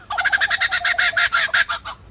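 A male lyrebird sings a rapid run of about a dozen bright, evenly spaced chirping notes mimicking other bird species, clear and fairly close with no other sound.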